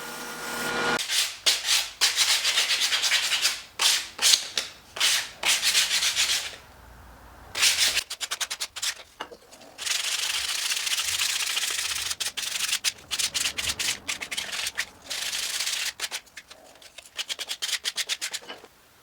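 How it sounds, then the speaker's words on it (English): A small disc belt sander grinds material off a wooden reinforcing block in loud, close, intermittent bursts of abrasive rubbing, with short pauses between passes. "just take it to my small disc belt sander and just grind off most of the material"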